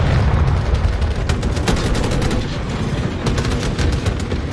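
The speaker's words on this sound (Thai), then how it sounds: "มีแต่เสียงปืนทั้งเกม" Dense bursts of gunfire with booming blasts, rapid repeated shots and heavy thuds layered over a loud, continuous battle din in Battlefield 2042 Breakthrough mode.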